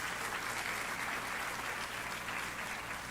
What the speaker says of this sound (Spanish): ¿Cuántos le dan un aplauso a Él?